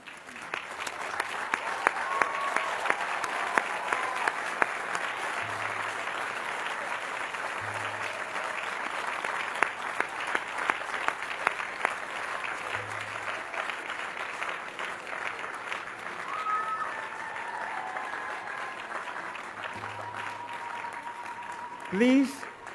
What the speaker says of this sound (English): Will the candidates all stand so we can give them a final round of applause